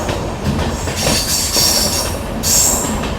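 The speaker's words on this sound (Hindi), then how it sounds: "बस अब घाट में हम लोगों की ट्रेन एंटर कर चुकी है" A train hauled up a mountain ghat section with a banker locomotive attached on the New Haflong–Badarpur route, its wheels rumbling and clattering steadily with bright, recurring wheel squeals rising over the loud, close din.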